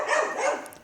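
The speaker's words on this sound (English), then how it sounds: "Dogs barking and everything." A dog lets out a single close, loud bark that trails off quickly.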